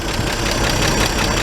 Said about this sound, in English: The engine's warmed up a bit.